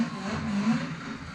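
A Volvo's engine in a racing sim bounces off the rev limiter, giving a sustained, buzzing drone at high revs that stays steady and close throughout the short burst.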